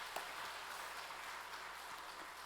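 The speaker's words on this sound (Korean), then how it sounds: "우리 백합성가대 저기 박수 한번 하겠습니다." Congregation applauding the church choir after an afternoon praise service, a soft, steady patter of clapping heard from some distance with a low hum beneath.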